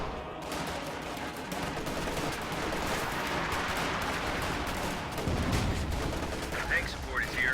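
Infantry support guns fire direct in a World War II strategy game, heavy continuous gunfire and booming blasts layered over battle noise, dense and loud throughout.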